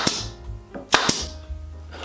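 A pneumatic pin gun fires into wooden trays being assembled, giving several sharp, close snaps spaced irregularly over a low hum.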